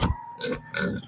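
A pig, one of two young gilts on a Philippine backyard farm, grunts several times up close in short rough bursts, loud and without talk.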